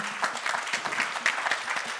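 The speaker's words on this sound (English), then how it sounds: "a round of applause to all of us women on the panel and all the women in the room" A room full of women and guests at a panel event on female leadership applauds the women on the panel, steady dense clapping that carries on without a break, moderately loud and close.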